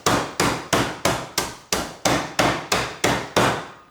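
A mallet pounds ice inside a canvas Lewis bag for a tequila tiki drink, with about ten loud, evenly spaced thuds and crunches close by, each dying away before the next, and no talking.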